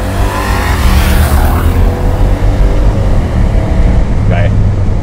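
Classic Mercedes SL V8 accelerating at full throttle, a loud continuous engine roar rising in pitch, with someone talking over it.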